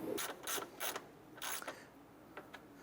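Ratchet wrench snugging down the top bolts on a 2008-2012 Honda Accord A/C condenser cooling fan assembly, several short bursts of rapid clicking with pauses, close and fairly quiet, no talking.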